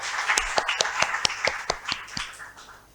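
Applause from an audience for performers at a school valedictory function: a dozen or so distinct claps in a steady rhythm over about three seconds, moderately near, fading toward the end, with no voices.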